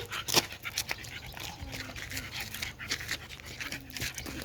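A dog pants quickly and rhythmically close by while out on a walk, with a few soft whimpers and small rustles mixed in.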